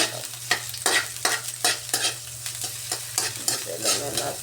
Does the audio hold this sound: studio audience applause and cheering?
no